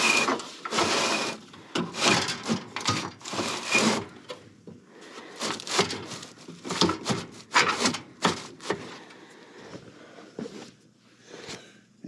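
An old R-22 evaporator coil is worked back into its housing, producing bursts of metallic scraping, rubbing and sliding with pauses between efforts, close and fairly loud, without speech.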